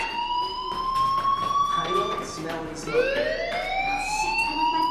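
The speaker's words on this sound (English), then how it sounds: "Hey, do you hear that fire alarm? That means you should be outside." Fire alarm sounding in the video game Life Is Strange, a loud rising and falling electronic wail repeating continuously over a steady background hum.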